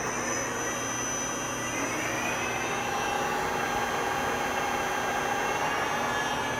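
A Kiheung UMB 6 universal milling machine runs at raised speed: a steady, even mechanical hum with a thin whine on top, constant and moderately loud throughout, with nobody speaking.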